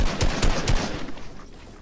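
Rapid gunfire in Fortnite, a quick burst of three or four loud, close shots in succession followed by a fading tail; no talking.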